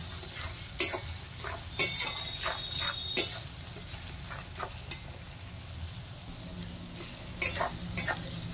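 Turmeric, chilli powder and salt fry in a pan while a spoon stirs them, making repeated scraping strokes in an uneven rhythm over a close, continuous sizzle.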